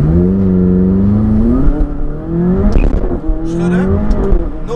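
A McLaren 570S Spider sports car engine, 570 hp, revving in damp conditions, its loud droning note rising and falling in pitch through several swells, close up with no talk.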